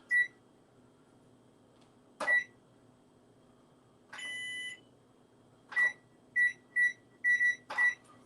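A kitchen timer on a cooking set beeps in a series of short, clear electronic tones, some single and some in quick clusters, fairly close and loud against a quiet room, with a brief buzzy tone partway through.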